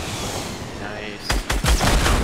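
Rocket fire and explosions in Fortnite: after a steady wash of battle noise, several sharp loud blasts strike in close succession in the final second, with voices in the background.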